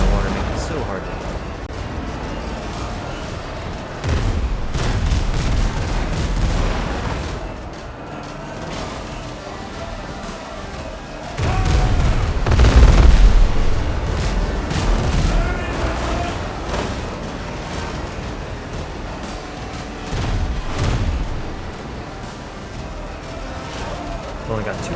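Side cannons on a sailing ship fire in the video game Windrose, with heavy booming volleys and rumbling blasts repeating through the stretch, strongest near the middle, amid constant game noise and an occasional voice.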